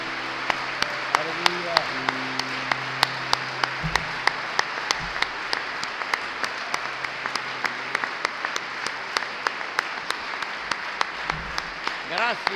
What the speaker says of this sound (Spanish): Un gran aplauso al Señor por su palabra y su bondad.